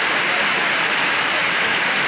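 Heavy rain pours down at a railway station, a steady, dense hiss that holds at an even loudness throughout with no voices.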